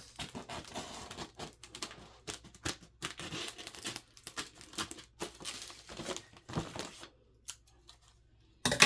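Scissors snipping through a stiff laminated plastic sheet in irregular bursts of sharp cuts and crinkles, close up, with brief pauses between strokes.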